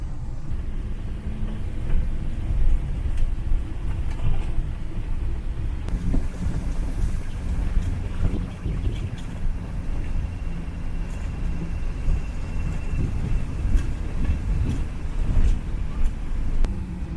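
A camper van driving on a bumpy dirt mountain road, a continuous low rumble with rattles, bumps and wind buffeting, fairly loud and without talk.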